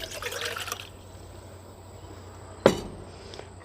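Water pours into a pot for an Esbit folding camp stove, a brief trickling fill at the start, then near-quiet, followed by a single sharp knock or clink.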